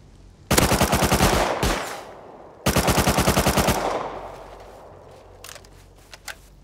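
Automatic gunfire in the survival game Rust, in a snowy solo match: two long rapid bursts of shots fired close and loud, separated by a short pause, then a few scattered single reports fading out.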